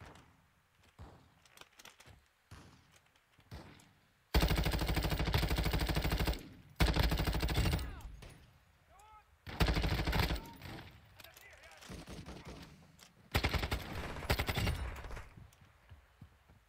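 Other players' gunfire in an online shooter arrives as several loud automatic bursts, each lasting one to two seconds and separated by quieter gaps, while players talk between the volleys.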